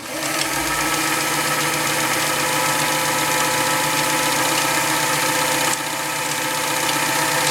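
Steady mechanical whir of an Elna SU Supermatic Star 62C sewing machine stitching continuously at an even pace, close and fairly loud, with a slight shift near the end.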